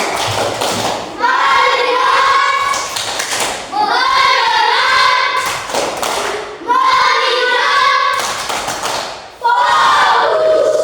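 Classroom of children performing the tepuk fokus clapping routine: bursts of rhythmic group claps in repeated phrases, mixed with children's chanting voices, loud and close.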